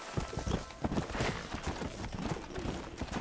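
Rapid clip-clopping of pony hooves in Red Dead Redemption, a steady quick trot of close, crisp hoof strikes running the whole time with faint game ambience beneath.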